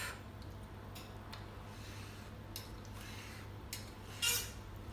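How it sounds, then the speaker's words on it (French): Knife slicing small red peppers in a home kitchen, a few light taps and cuts against a board over steady low background hum, with one sharper clink near the end. "Donc je prends des petits poivrons, je les coupe."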